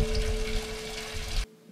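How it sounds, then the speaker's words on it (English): Water runs steadily through a drain as a close, even rushing wash with a faint tonal hum, and it stops abruptly after about one and a half seconds. "I listened closely, but there was just running water."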